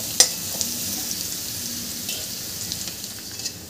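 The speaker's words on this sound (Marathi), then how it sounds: "मी छान गाजर छान परतवून घेते 2-3 मिनिटं हाय फ्लेमवर।" Carrots for veg fried rice sautéed over a high flame: a steady close hiss and sizzle with a sharp clink at the start and a few light stirring taps, with no talk.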